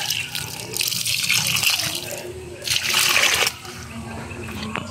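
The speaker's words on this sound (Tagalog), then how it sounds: "Buhusan natin, painumin natin ng water." Water is poured over young banana plants in a field, splashing in two heavier gushes against a steady outdoor background with a low hum.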